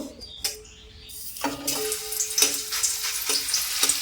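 Garlic hits hot oil in a home kitchen pan and sets off a bright crackling sizzle. A few sharp clinks of a utensil sound nearby, with faint bird chirps in the background.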